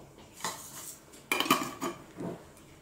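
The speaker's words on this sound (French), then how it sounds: "Et là, j'en mets 2 cuillères à soupe rases." A metal spoon scoops two level tablespoons of a dry ingredient, with several close, crisp clinks against a bowl or container at an uneven rhythm.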